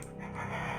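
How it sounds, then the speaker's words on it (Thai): A mother's breathing heard over a phone in the Evil Inside horror game: one short, close, panting breath, alone and brief. "นี่นายจำเสียงคุณแม่หายใจได้ขนาดนี้เลยอย่างนั้นเหรอ"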